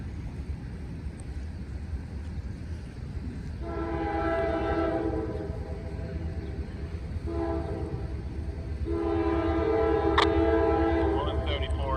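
A CSX freight train approaches near a highway crossing by a fire station, sounding two long horn blasts over a steady low rumble of rail noise that grows louder, with faint talk in the background.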